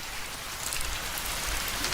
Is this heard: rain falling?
yes